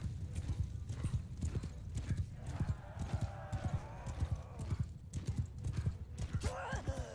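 A large mass of horses gallops in Mount & Blade II: Bannerlord, with dense, fast clip-clop hoofbeats drumming steadily and loudly throughout and a whinny rising near the end.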